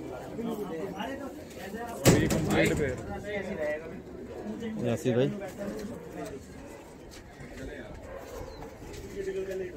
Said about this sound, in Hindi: पुराने वाले कबूतर हैं ना बढ़िया